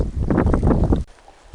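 Strong wind blusters against the microphone on a lake during a canoe trip in Quetico Provincial Park, Canada. It gives a loud, rumbling rush that cuts off suddenly and leaves quiet water and air behind.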